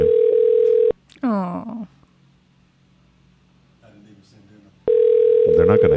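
Steady telephone call tone from a phone line while dialing a contest winner on a morning radio show, heard at the start and again at the end, with a brief spoken voice and a quiet gap between.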